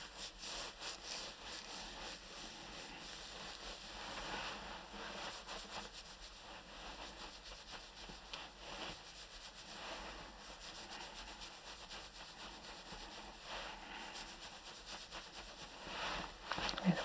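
Whole-hand rubbing with aroma oil during a face, scalp and neck massage: continuous soft, close swishing strokes, quiet and steady, with no talk.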